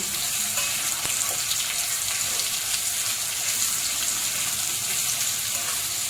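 Finely chopped onion fries in a pan for a white bitter gourd thecha, giving a steady, even sizzling hiss up close with no voices.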